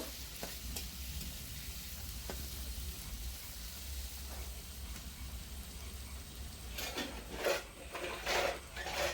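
Salted potatoes fry in a pan with a quiet, steady sizzle and crackle, joined near the end by a few louder scraping stirs of a utensil; no one speaks.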